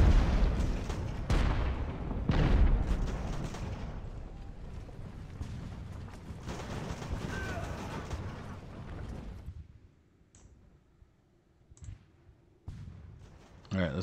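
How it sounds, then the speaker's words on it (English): Artillery shelling from warships at Bunker Hill in Ultimate Admiral: Age of Sail, heavy booms and rumbling blasts at first, fading to quiet with a few sharp clicks later. "he's shelling me from the ships now"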